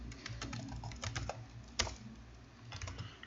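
Someone types a password on a computer keyboard while setting up a Ricoh SP377SFNwX printer. The keys give a quick, uneven run of soft clicks close by, with a short pause in the middle.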